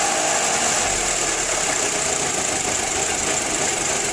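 A 2006 Volkswagen Passat engine runs with a loud, steady, slightly uneven rough idle after a repair, with no clear rev rise in this stretch.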